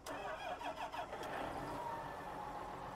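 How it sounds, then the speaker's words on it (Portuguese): A large tractor's engine cranks and starts in Farming Simulator, a close, loud mechanical burst settling into a steady, rumbling idle that runs alone through the rest of the clip. "Sobe no bicho e dá uma partida aí, só pra você sentir o ronco."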